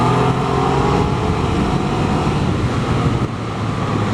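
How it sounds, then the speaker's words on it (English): A motorcycle accelerates hard around a corner, its engine roar steady and loud over wind rush for the whole stretch, heard from on board with no talk. "I don't know if you could feel that acceleration, but I sure did."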